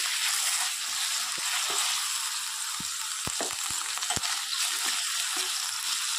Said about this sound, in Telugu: ఆయిల్ వేసుకున్న కళాయిలో వంకాయల్ని ఫ్రై చేసుకుంటున్నాను.